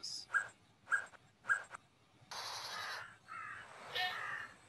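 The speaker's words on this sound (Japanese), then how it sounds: "カラスが上の方、鳴きながら飛んでってますけども" Crow cawing as it flies overhead outdoors, three short, loud, separate caws in a steady rhythm followed by longer broadband rustling and hissing noise; no talk.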